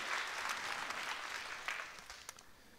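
Audience applause at a mayor's New Year greetings ceremony in Fourmies, a steady wash of many clapping hands that holds strong for two seconds and then thins out and fades, with a few sharper claps near the end.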